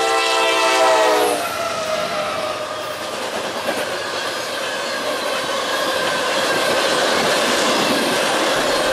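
An ethanol freight train led by a Dash 9 locomotive rolls past in autumn in Ohio, a horn blast fading into a loud, steady rumble of railcars and clattering wheels close by.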